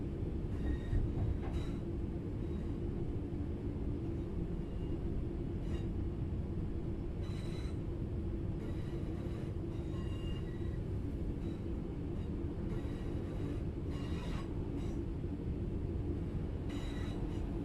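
A train in Train Sim World rumbles along steadily with a low continuous drone, rhythmic wheel clatter and occasional squeals and clicks, heard close and unbroken.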